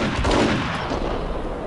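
A burst of gunfire in the action shooter game Max Payne, loud and dense with a rolling echo that fills the whole short moment; no talk.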